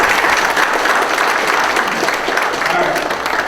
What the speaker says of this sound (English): In fact, I'd like to give Candace a round of applause for her public service.